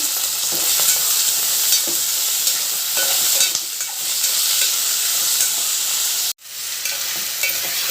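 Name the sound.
ivy gourd (tondakaya) pieces frying in oil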